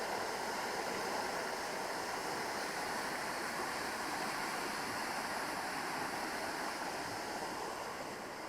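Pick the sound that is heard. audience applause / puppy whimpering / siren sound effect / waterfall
waterfall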